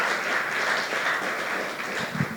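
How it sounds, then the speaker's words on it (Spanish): A church congregation breaks into applause, a dense, continuous patter of many hands clapping together, fairly close and steady across the clip and tapering slightly toward the end. "Dele palmas al Señor."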